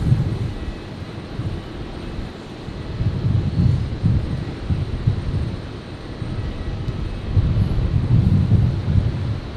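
An aircraft taxiing on the ground at Brisbane airport gives a steady low engine rumble with swelling and easing intensity throughout, mixed with light wind noise on the microphone and no talking.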